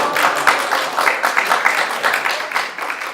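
Church congregation applauding at a retreat seminar, a steady wash of many hands clapping at moderate volume throughout, fairly close and unbroken, with no voices over it.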